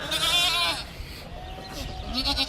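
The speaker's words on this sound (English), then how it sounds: "how old are these baby goats?" Baby goats about three weeks old bleat on a farm, a few close, wavering cries at the start and end, with other faint farmyard noise in between.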